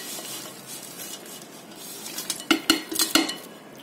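Crushed Oreo ice cream ingredients are mixed in a bowl. Soft scraping gives way to a quick series of sharp clinks and taps of a utensil against the bowl near the end.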